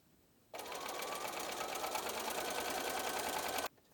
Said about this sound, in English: sew on using my 1/4 inch seam allowance, sew on the side